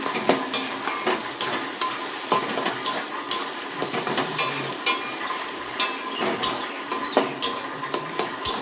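Taro leaf paste with sugar sizzles in a pan while being stirred, a constant frying hiss broken by quick, regular scraping strokes of a spatula against the pan, close and loud throughout.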